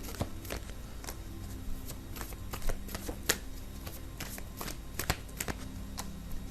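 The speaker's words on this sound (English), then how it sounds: "I need to pull out a few more cards." Tarot cards shuffled and drawn from a deck, a run of soft riffling flicks and crisp taps close by, with a few sharper snaps scattered through and no voices.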